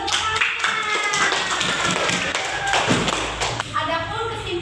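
Pupils in a primary school classroom clap their hands together in a steady burst of applause, with a busy, crowded texture and children's voices chattering underneath throughout.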